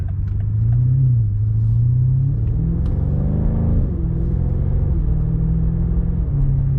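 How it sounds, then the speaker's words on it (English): A deep, loud AWE Track aftermarket exhaust on a BMW M5 drones steadily from inside the car, its pitch rising and then dropping as the engine revs and settles. "You can hear it more than the stock exhaust, let's just put it that way."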